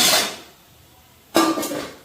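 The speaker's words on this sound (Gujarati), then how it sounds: "આ ઢોકળા ખાઈને વાસણ કોને ફેંકી દીધા?" Metal pots and utensils, left after a dhokla meal, clatter nearby in two loud bursts. A short quiet gap separates the first crash from the second, longer rattle.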